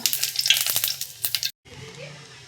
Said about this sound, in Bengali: এবারে তেলের মধ্যে আমি ফোড়ন দিয়ে নেব, গোটা জিরে, আর দিয়ে দেবো একটা শুকনো লঙ্কা।